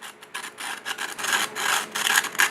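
Sandpaper rasps back and forth across the jagged, chipped edge of a fragile seashell, close and steady with brief pauses between strokes.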